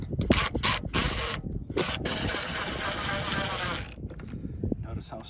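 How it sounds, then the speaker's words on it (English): An impact wrench fastens the gasket bolts on a Craftsman lawn mower, giving close, loud rattling bursts in short pulses followed by a sustained hammering run. "For this, with an impact, I'm always very careful with how tight I reinstall."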